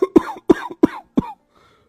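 An elderly man lying on a cot coughs five times in a harsh, hacking series, close up and loud, then goes quiet.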